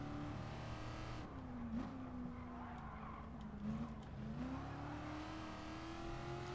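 Engine of a 1979 nostalgic car in Gran Turismo Sport revs steadily while racing, the pitch rising and dipping through gear changes, loud and continuous with no talk.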